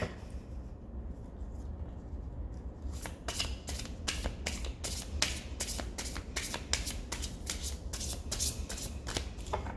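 A SEER'S Tarot deck being shuffled by hand, starting with soft rustling, then a rapid run of crisp riffling card snaps, close and fairly quiet.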